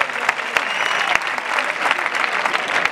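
Crowd applauding at a bull-dodging contest in a Spanish village square: sustained clapping with a few sharp, louder claps standing out and faint shouts mixed in beneath.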